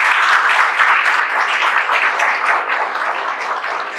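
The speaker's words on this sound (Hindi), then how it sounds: "माधुरी के लिए ताली" A group of students and teachers claps loudly for Madhuri, a successful exam candidate, in a class setting. The applause is dense and close, holds at full strength throughout, and eases only slightly toward the end, with no speech.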